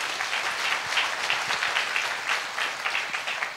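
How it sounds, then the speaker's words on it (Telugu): An audience claps loudly for Gampa sir, a dense, steady burst of applause with no break for its full length. "గంపా సార్ గురించి గట్టిగా ఒకసారి చప్పట్లు కొట్టండి మీరు."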